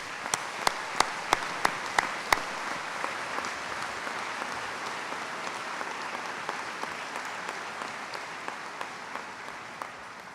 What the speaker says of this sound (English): I'd like for you to give them a round of applause.